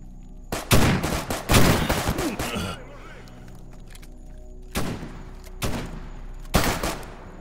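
Gunfire rings out in S.T.A.L.K.E.R. GAMMA: a few sharp, loud bursts of rifle shots, first in quick succession, then three spaced single shots echoing over a quiet hum.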